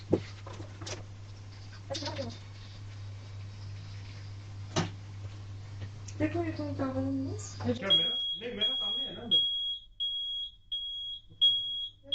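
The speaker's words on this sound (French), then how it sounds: "c'est au tour de l'alarme incendie de faire des siennes" A household smoke alarm going off: a steady high electronic tone that starts partway through and repeats in short beeps, over a low hum, with people talking before and between the beeps.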